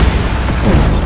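Bombarda explosion spell in Hogwarts Legacy combat, a short thick booming rumble with popping, crashing impacts layered in, loud and close for about a second.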